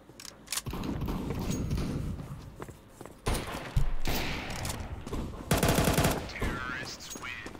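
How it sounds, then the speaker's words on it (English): Desert Eagle gunfire in Counter-Strike 2, a string of loud, sharp shots fired in bursts at close range, with game noise and movement sounds between them. "I'm shooting at the head!"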